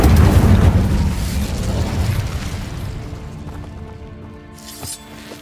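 Incendio fire spell in Hogwarts Legacy erupts as a loud, close whooshing blast of flame at the start, then fades into a lingering crackle with a small pop near the end.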